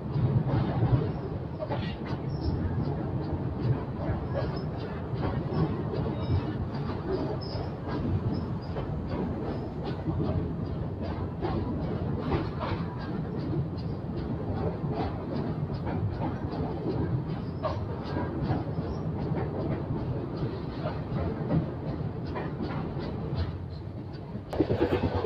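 A passenger train on the Pune to Kurduwadi line, heard from on board: a continuous loud rumble with rapid, regular wheel clatter running the whole time, easing slightly near the end.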